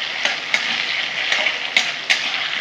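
Food fries in hot oil until reddish, with a constant close crackling sizzle broken by a few sharp clicks of stirring, and no talking.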